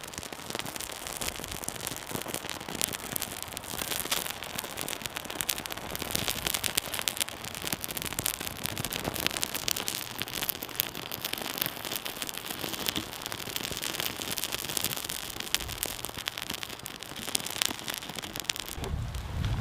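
Campfire wood catching as flame spreads through the pieces, giving dense, continuous crackling and popping that stays steady and fairly close throughout, with a brief low rumble near the end and no voices.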